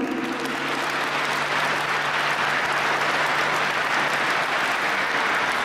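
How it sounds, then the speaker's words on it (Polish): A crowd applauds at a speedway team presentation, a continuous, even roar of clapping from many hands with no voices rising above it. "Brawa najpierw dla nich."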